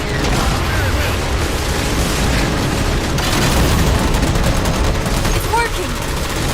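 Ship cannons firing in a loud barrage in the Halo video game, a dense, continuous rattle of gunfire and booms that hits hard and close throughout, with voices shouting over the battle.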